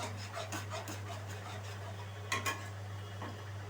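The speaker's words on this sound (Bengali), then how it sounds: "আবারও কিছুক্ষণ ভালো করে আমি মিশিয়ে নিচ্ছি।" A spatula stirs ground spice paste into a spicy tomato rohu fish curry in a pan, making soft, intermittent scraping and clinking over a steady low hum, with one sharper knock near the middle.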